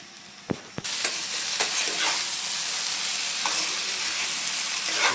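Fish and vegetables being stirred together in a sizzling pan, a few sharp utensil clicks at first, then continuous frying hiss with spatula scrapes, close and steady.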